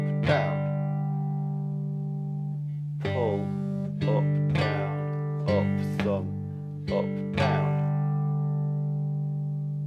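Cigar box guitar strummed in the rhythmic pattern of a song, with a droning bass note under repeated bright strums, played alone and close.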